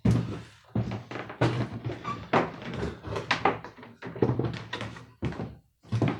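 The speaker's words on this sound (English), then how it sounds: "Open the door so" A door is opened in a workshop where a Remington SL4 chainsaw is being repaired, giving a string of loud, close thunks, knocks and rattles in uneven bursts with short pauses between them.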